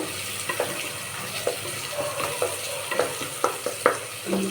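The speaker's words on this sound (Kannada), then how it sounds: "ಈರುಳ್ಳಿ ಫ್ರೈ ಆಗಲಿ ನೀಟಾಗಿ ಚೆನ್ನಾಗಿ ಈರುಳ್ಳಿ ಫ್ರೈ ಆಗಬೇಕು" Onions fry in a pan with a soft, steady sizzle, broken by occasional light clinks and scrapes of a spoon stirring, fairly quiet and close, with no talk.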